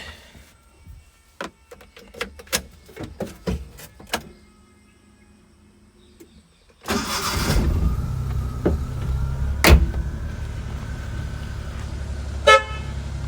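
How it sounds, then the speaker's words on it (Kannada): A Maruti Omni van's engine is started with the key: a few quiet clicks and rattles, then the engine catches and settles into a steady, fairly loud idle with a brief sharp knock partway through. "ಈ ಗಾಡಿನ ಸ್ಟಾರ್ಟ್ ಮಾಡೋಣ ಕೀಯಲ್ಲಿ."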